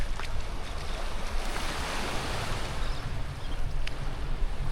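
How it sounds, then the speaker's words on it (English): Steady, strong wind on a Playa del Carmen beach, buffeting the microphone in a continuous rush with waves washing faintly beneath, no speech. "Now it is really a steady, consistent, strong wind though."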